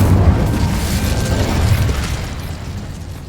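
The Incendio fire spell bursts out in the Hogwarts Legacy video game, a loud, low whooshing blast that starts at full strength, holds as a rumbling roar, then slowly tails off.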